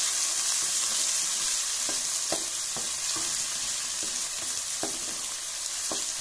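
Onions frying in a pan for a potato, pea and carrot curry, a loud continuous sizzle close up, with occasional sharp scraping taps of a stirring spoon against the pan.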